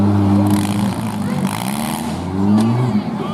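Compact cars' engines at the Rice County Fair, several motors droning and revving together at moderate distance, pitch rising and falling as they move, with a crowd murmuring underneath.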